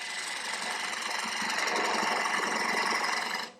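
A spindle gouge cuts an indented angled groove into an ebony mulberry wood bowl spinning on a lathe, a steady close rushing hiss that holds for about three and a half seconds and then stops abruptly.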